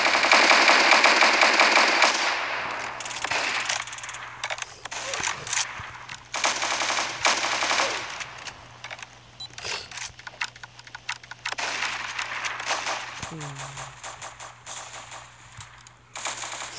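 Rapid automatic gunfire rattles in loud bursts during a video game, with bursts separated by short pauses and scattered single shots.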